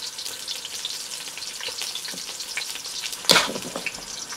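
Mongolian beef in a thin Korean barbecue marinade sizzling and frying in a pan while being stirred, a steady crackling hiss with one louder scraping burst near the end and no talking.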